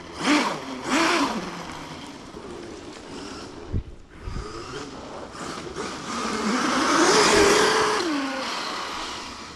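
An Arrma Dirt Rat RC car with a Spectrum 1250kv brushless motor whines through several revs, short bursts first then a longer rising and falling whirr, fairly close.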